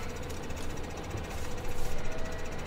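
Tractor engine running steadily in Farming Simulator 2015, a continuous low mechanical drone with rattling, knocking texture that swells slightly louder toward the end, heard alone.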